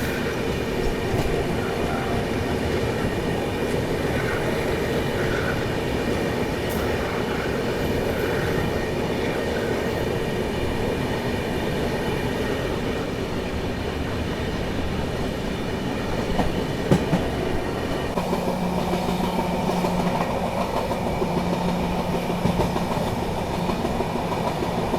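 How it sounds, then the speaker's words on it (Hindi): The Agartala LTT AC Express rolls steadily along the tracks with a continuous rumble and rhythmic clickety-clack, heard from inside the train, with a faint squeal partway through. "अपनी ट्रेन पहुंच रही है होजाई जंक्शन, होजाई रेलवे स्टेशन।"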